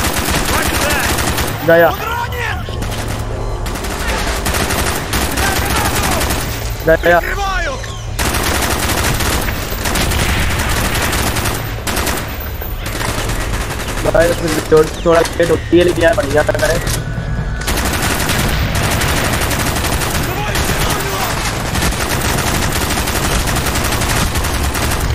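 A 75-round machine gun fires in Call of Duty Black Ops, long rapid automatic bursts broken by short pauses, loud and close, with someone talking excitedly throughout.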